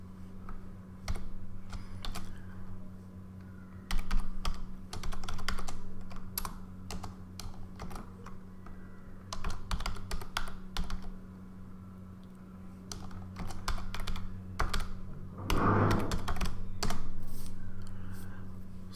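Continuous keyboard typing on a computer keyboard, with irregular bursts of clicks and brief pauses, heard close and fairly steady over a faint background hum.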